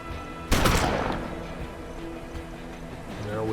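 A single sharp gunshot from the video game Hard West cracks out loudly and fades over a second, then gives way to quiet in-game ambience.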